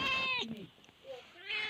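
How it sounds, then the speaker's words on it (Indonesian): A pet cat meows close by, two drawn-out meows separated by a brief quiet gap, moderately soft. "Yes, ini kucing aku."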